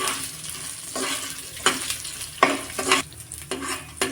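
Red chilies, seven or eight of them, frying in a pan for a spinach kootu, a crackling sizzle broken by repeated stirring scrapes in uneven bursts, close by.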